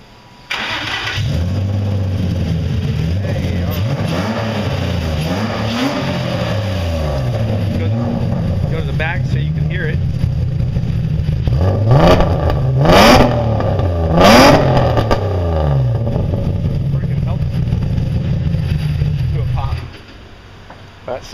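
A VQ35 V6 swapped into a Datsun 280Z cranks and fires up, then idles loudly and close with several sharp revs before shutting off.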